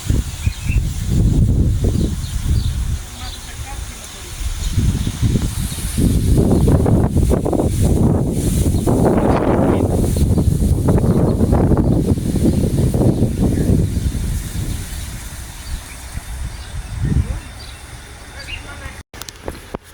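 Steady wind buffets a microphone outdoors on a goat farm in Saudi Arabia, a low rumbling roar that surges and eases, with people talking intermittently underneath.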